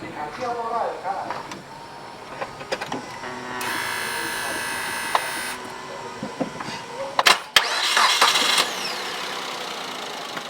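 A car with a flat battery is jump-started using an Anker ROAV jump starter: a loud, close starter whine cranks for about two seconds, then a second sharp burst as the engine catches and runs briefly, with scattered clicks and handling noises around it.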